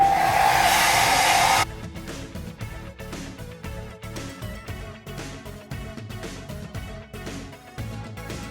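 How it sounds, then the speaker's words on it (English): A hair dryer set on low blows over hair with a loud, steady, close-up whoosh for about a second and a half, then cuts off abruptly. "now I'm just gonna blow dry it a little"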